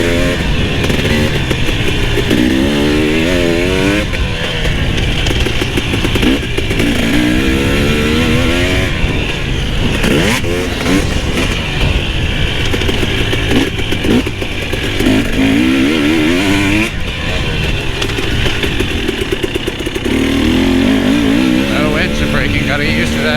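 A KTM-style TX300i two-stroke motorcycle engine revs hard and loud throughout a ride, pitch rising and falling with throttle changes, while a rider talks over it.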